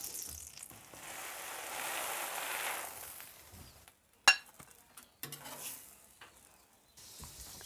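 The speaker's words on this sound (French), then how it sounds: "Tu fais un peu griller tes pains" Burger buns toasting on a hot griddle during a cheeseburger cook-off, a broad hiss that swells over the first few seconds, then fades into a sharp knock and a few scattered clinks and scrapes.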